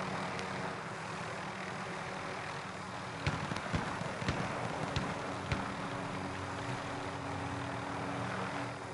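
A helicopter flies overhead in the shooter game Warzone, a steady, dense rotor and engine roar throughout, with a few sharp clicks and knocks partway through and no talking.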